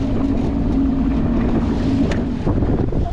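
Steady wind buffets the microphone outdoors on the Red River or Lake Texoma while catfishing, with a low boat engine rumbling underneath.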